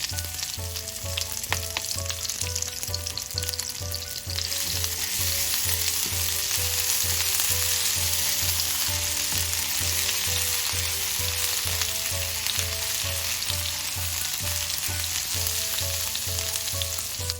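A small spoonful of crushed garlic and ginger sizzles in hot oil, a steady close crackling hiss that runs the whole time over rhythmic background music.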